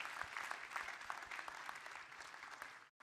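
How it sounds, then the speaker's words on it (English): An audience on board the cruise ship Celebrity Apex applauds a performing ensemble after a show, steady dense clapping close by that holds for about three seconds before cutting off abruptly. "Let's give them another round of applause."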